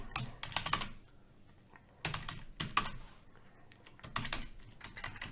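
Code being typed on a computer keyboard: quick clusters of close, crisp keystrokes come in bursts separated by short pauses, with no talk.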